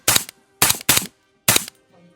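A 300 Blackout rifle fires four close, loud shots in an uneven quick burst: one, then a tight double, then one more, each a sharp crack that decays fast.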